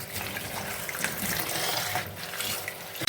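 Tap water runs steadily into a sink or bowl to soak freshly picked spinach leaves and loosen the sand, making a continuous gushing splash throughout.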